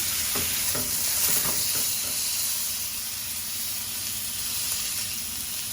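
Meat sears in a hot pan with a loud, steady sizzle and hiss, plus a few stirring scrapes early on.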